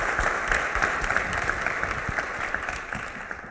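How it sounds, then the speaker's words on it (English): Audience applause at a budget session, a room of people clapping steadily and fairly close for a few seconds, dense and even without letting up. "So I just want to give Ron a round of applause."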